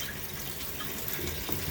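Water running steadily into a toilet tank as it refills after a fill valve replacement, the flow murky with stirred-up sediment; a continuous close hiss and splash of filling water with no talk.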